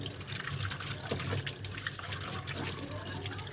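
Tap water runs steadily into a sink for washing silver items. The flow is close and fairly quiet, a continuous gurgling splash.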